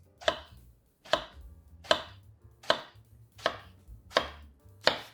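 Knife slicing Japanese eggplant into rounds under one centimeter thick, seven crisp evenly spaced cuts landing on a board, close and clear with quiet pauses between each stroke.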